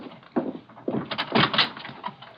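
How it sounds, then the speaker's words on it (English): A door in a radio drama handled with a few wooden knocks and rattles, short irregular thumps close up, with no voices over them. "Someone at the door."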